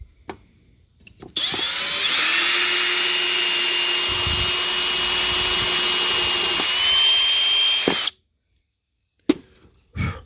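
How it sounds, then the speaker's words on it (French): Power drill boring a small hole to drive a screw, a loud, steady, close whine lasting about seven seconds, with faint knocks before and after. "une à la fois, on drille un petit trou, on visse la vis"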